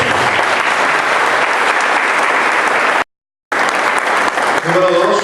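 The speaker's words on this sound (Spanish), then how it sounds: "Denle un aplauso." A church congregation bursts into loud, sustained applause close by, with a brief dropout in the middle before the clapping resumes and fades into a voice at the end.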